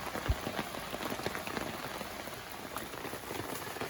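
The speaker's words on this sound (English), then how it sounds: "And it's raining heavier by the minute." Heavy rain patters and drips steadily onto a shelter top at a rainy Maine campsite, a dense, continuous hiss of drops with occasional louder splats close by, no voices.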